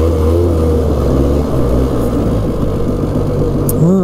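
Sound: Polaris Xplorer 400 ATV engine accelerating on top speed run

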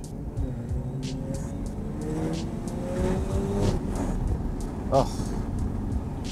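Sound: 1995 Efini RX7 twin turbo engine and exhaust while driving

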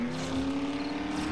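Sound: vehicle driving in the video game 7 Days to Die

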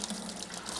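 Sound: sludge water draining through an opened aquaponic tank valve

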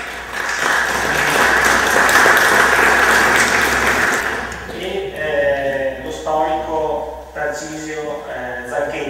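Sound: audience applause

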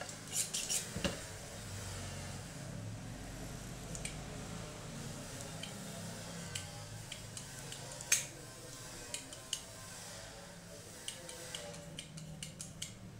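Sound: scalpel skiving leather by hand

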